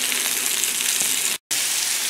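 Onions and bacon frying on a Blackstone griddle, a loud, steady, close-up sizzle that cuts out for an instant before resuming.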